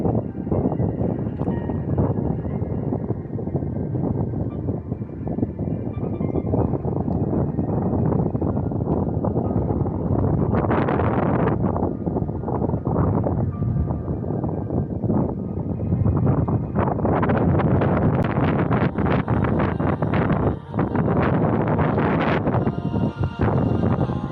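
Strong wind buffeting a microphone during a 138 km cycling stage toward Nantes, a continuous loud roar with rustling gusts that swell in the second half.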